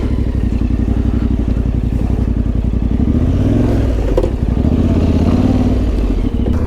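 A motorcycle on a Swedish TET adventure trail runs loud and close, its engine thrumming steadily and then revving up midway before settling back to a rough, even drone.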